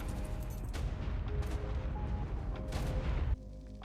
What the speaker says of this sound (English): Ferox explosion.